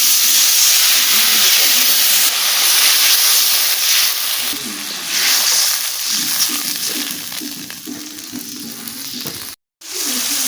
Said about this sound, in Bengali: মশলাটা ভালো ভাজা হয়ে গেছে এবার জল দিয়ে দিচ্ছি